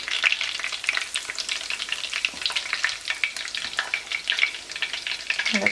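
Battered seafood fries in hot oil for fritto misto with a dense, continuous crackling sizzle, close and steady throughout, with a spoon stirring and no voices.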